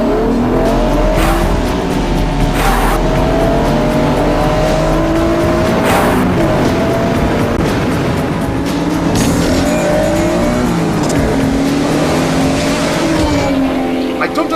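Loud race cars roar past in quick succession, engines whining up and down in pitch with sharp bursts and tire squeal, the noise constant and close throughout.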